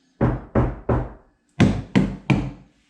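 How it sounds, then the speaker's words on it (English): Six solid knocks on a 2017 third-gen Toyota Tacoma TRD Off-Road Access Cab door after sound deadening, struck in two groups of three with a brief pause between, each a dull, deadened thud close by. "Hit that door, Kill."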